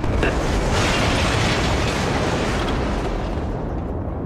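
Planted demolition charges go off in Killzone 3 with a loud, sustained rumbling blast, dense debris crackle filling the whole moment before slowly easing.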